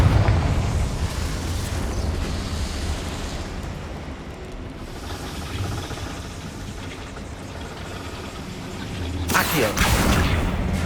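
The Confringo fire spell in Hogwarts Legacy bursts in a dense, roaring explosion that rumbles on for several seconds and then flares again near the end, heavy in low-end boom.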